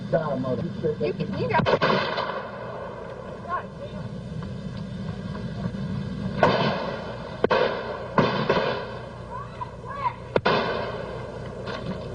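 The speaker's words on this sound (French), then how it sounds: "les deux hommes échangent 11 coups de feu" Two men exchange eleven sharp gunshots at irregular intervals by a road over a steady background din, some louder than others, with voices talking in between.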